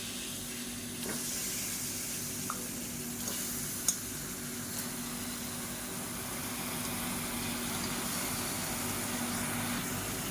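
Chicken pieces sizzle steadily in a pan of sautéed masala for a village-style chicken kulambu, a continuous broadband fry with light stirring scrapes and an occasional sharp tick, moderately loud and close with no talking.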